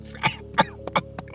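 A person coughs four or five times in quick, sharp bursts, close and fairly loud, with a brief throat sound at the end.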